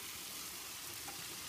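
Kale sizzles in a hot pan on high heat, a steady, faint hiss of frying that runs unbroken, with a brief clatter at the very end.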